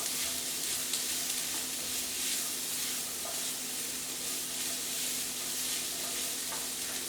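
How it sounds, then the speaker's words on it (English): Vegetables fry in a pan while being constantly stirred, a steady close hiss of sizzling with occasional scraping clicks from the spoon and no voices over it. "I want the vegetables to cook for about 2 minutes, constantly stirring the mixture,"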